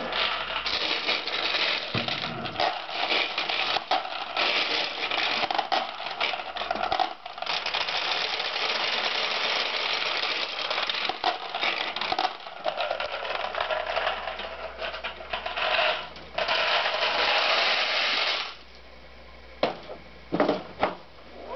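Metal balls poured into the hopper of a Nishijin Power Flash pachinko machine, a dense, steady rattling clatter that runs for long stretches, then breaks into a few scattered bursts near the end, no talking.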